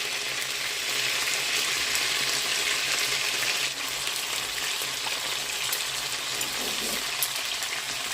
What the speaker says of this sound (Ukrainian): Ось так воно просмажиться із другої сторони.